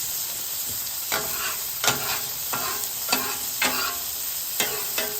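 Peanut oil heats on a hot griddle with a steady crackling sizzle, punctuated by repeated scraping or stirring strokes at irregular intervals, close up with no talking.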